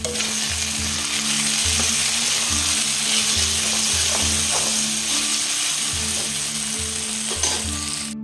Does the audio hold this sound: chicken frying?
yes